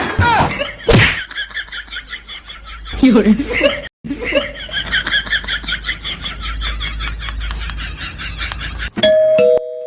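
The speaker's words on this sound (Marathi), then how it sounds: "बेल वाजला कोणता आला वाटतो बघू." A doorbell chimes near the end with a clear ding-dong, after stretches of people talking and laughing.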